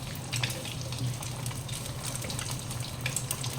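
Eggs for fried egg noodles sizzling and being tossed in a pan over modest heat, a steady hissing fry with soft scraping bursts, close and low in level, no voices.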